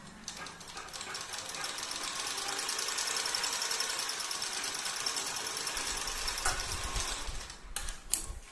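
A sewing machine stitches a size 52 bra, running continuously at a steady, fairly loud pace for most of the stretch before a few brief clicks and handling sounds at the end.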